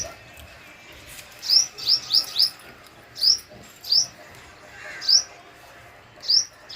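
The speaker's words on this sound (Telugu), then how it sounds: "గువ్వ కాదది పిట్ట." A small bird chirps in short, sharp high tweets, first in a quick run of four and then in scattered single calls, clear and close over a quiet background.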